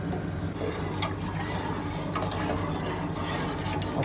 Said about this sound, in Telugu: ఇప్పుడు మనం తీసుకున్న బియ్యానికి సరిపోయేంత వాటర్ వేసుకొని వాటర్ బాగా మసలాలి